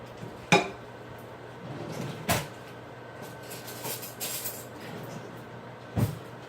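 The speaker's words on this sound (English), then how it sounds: "All I'm going to do is divide this up between the 2 pans." A serving spoon scrapes and knocks against metal pans while a keto shepherd's pie is portioned out in a kitchen, giving three sharp clanks spaced apart over a quiet background.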